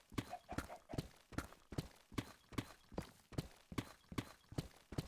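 A Minecraft horse trots in a steady rhythm of about ten clear clip-clop hoofbeats, evenly spaced and fairly close, with no talk over them.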